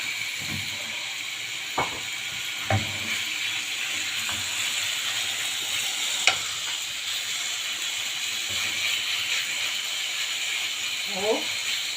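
Syrian-marinated shawarma sizzling in melted butter in a frying pan, a steady broadband hiss running throughout with a few sharp clicks and pops, while a voice talks over it.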